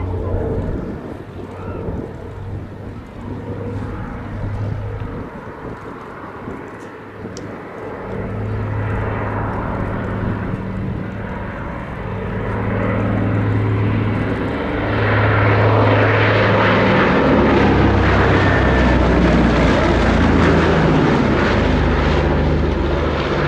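A Consolidated PBY-5A Catalina flying boat flies past at an air show, its piston engines and propellers a broad rumbling drone that grows louder and closer toward the end, with wind buffeting the microphone.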